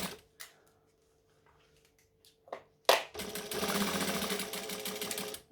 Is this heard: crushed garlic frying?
no